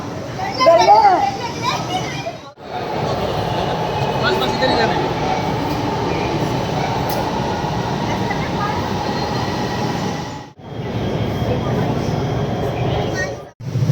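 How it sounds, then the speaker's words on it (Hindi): Train passing at a station: a long, steady rumbling roar of rail cars rolling by, with children's voices and chatter mixed in over it. "ट्रेन आ गई लेकिन वो हम दूसरी पे जाएंगे वो तो गुजर जाएगी।"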